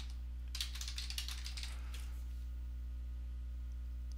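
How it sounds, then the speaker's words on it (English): Soft typing on a computer keyboard, a brief flurry of light key taps over a steady electrical hum, then only the hum. "What you would do is just type in something here"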